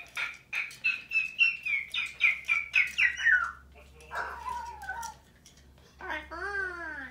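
A pet bird gives a quick run of about a dozen bright, rhythmic chirps close by, then shifts into softer warbling, babbling sounds with a few whistled glides.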